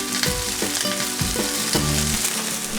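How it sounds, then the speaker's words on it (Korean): Horse mackerel sizzling in a hot oiled pan, a constant crackling fry that stays close and steady, with soft background music and no voices. "전갱이 굽는 소리가 미각을 깨우면"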